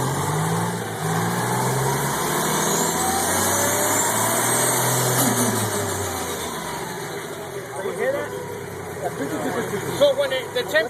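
A turbocharged engine idles steadily with a low, even mechanical drone that stays constant for several seconds before rougher, irregular sounds break in near the end.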